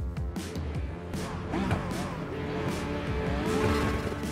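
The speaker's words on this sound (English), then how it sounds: "give it full throttle. Green, lift off the clutch, find the biting point, power" A Porsche Cup race car in iRacing launching at the race start at Spa, engine revving and climbing with tire squeal as it pulls away, loud and close, while someone talks over it throughout.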